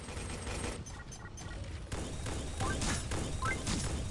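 Rapid gunfire from an acid shotgun in the mobile shooter Pixel Gun 3D, a steady barrage of repeated shots with crashing impacts that grow denser and louder halfway through, no talking.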